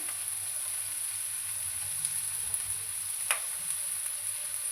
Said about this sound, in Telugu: ఆనియన్స్ వేసిన తర్వాత అది ఫ్రై అవుతూ ఉంటుంది